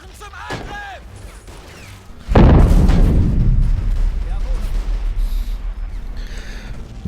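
A mortar fires in Men of War: Assault Squad 2, a World War II real-time tactics game. One heavy, close boom hits partway through and rolls off into a long rumbling tail over background battle noise.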